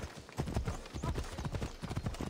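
Horse hooves galloping in Assassin's Creed Odyssey, a rapid, irregular clip-clop rhythm of repeated thuds, close and fairly loud, with brief game sounds around it.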